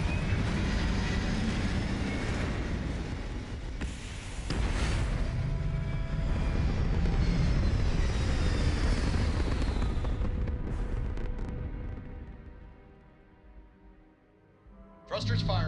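Starfield spaceship lifting off with thrusters firing: a loud, sustained broadband roar and rumble that swells and holds for about ten seconds, then fades, with a voice talking over it.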